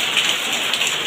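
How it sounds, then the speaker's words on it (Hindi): Heavy monsoon rain pouring down in rural Odisha, a dense continuous hiss of drops drumming on surfaces, loud and close with no pauses. "हेवी रेन एते जोर से वर्षा होती"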